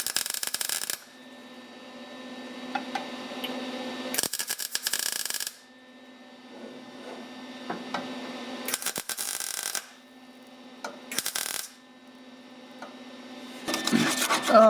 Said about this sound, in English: Oh, I had the welder turned up a little bit too high.